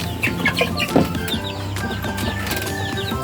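Farm chickens cluck repeatedly in short, close calls, with a brief louder squawk near the middle, over a steady background of more birds and farmyard noise.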